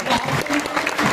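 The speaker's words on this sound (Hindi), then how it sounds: "जोरदार तालियां हो जाए" Loud crowd clapping at a rally for a post upgrade movement, a brief dense burst of many hands close by, mixed with some voices.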